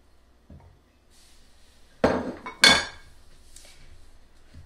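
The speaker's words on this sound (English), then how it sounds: "I'm just mixing every bit of that together" Cake batter with melted butter being stirred in a bowl for a pecan pie cake, a few clinking utensil knocks against the bowl, two louder, amid quiet kitchen sounds.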